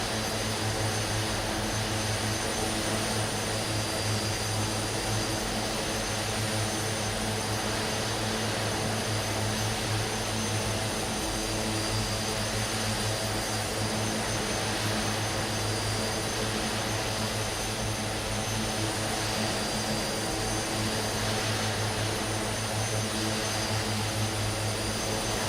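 Steady, loud engine drone inside a light aircraft on a scenic flight over the Victorian gold fields toward Swan Hill, a continuous roar with constant hum that never lets up.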